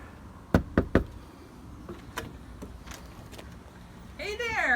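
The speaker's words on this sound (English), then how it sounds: "I'm gonna go knock on the door." Three sharp, loud knocks on the front door of a Core house rap out in quick succession, followed by a few fainter taps. Voices start talking at the end.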